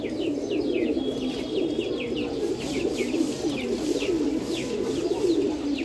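Pet pigeons cooing in a loft, overlapping low throaty coos repeating steadily and close by, with faint chirps over them and no talk.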